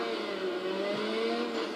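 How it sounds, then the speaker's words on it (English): A truck driving past in Burnout 3 Takedown, a steady droning engine tone with a slight rise and fall in pitch, moderately loud against continuous road and traffic noise, brief and without speech. "See, there goes the truck."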